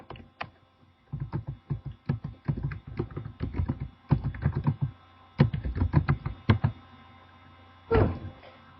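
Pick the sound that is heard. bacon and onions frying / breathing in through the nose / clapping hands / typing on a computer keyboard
typing on a computer keyboard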